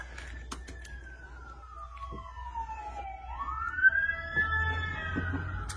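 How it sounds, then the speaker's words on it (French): Emergency siren wailing along a street in the United States, one long falling then rising sweep, moderately loud and somewhat distant, over low traffic rumble. "Il y a les ambulances qui vont passer."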